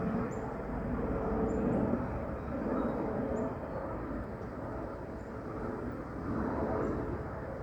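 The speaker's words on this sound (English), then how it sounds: "There's a jet up there too." High jet aircraft passing overhead outdoors, a soft, distant broadband roar that swells and fades gently in waves over several seconds, continuous and without talk.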